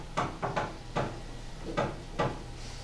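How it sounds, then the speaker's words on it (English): Someone knocks on a bedroom door, giving five or six distinct wooden knocks in two loose groups, close by and moderately loud, with no talking. "He knocks."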